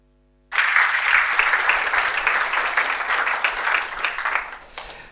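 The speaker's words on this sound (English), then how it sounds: "Thank you for the round of applause before." A conference audience at a technical talk breaks into loud, dense applause that starts abruptly, holds steady for several seconds, then thins and fades out.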